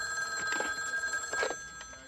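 A telephone rings in a couple of short bursts that pulse through a steady background hum, moderately loud, with no one talking over it.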